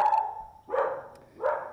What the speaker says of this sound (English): I'm gonna have to go see what my goofy dog's problem is.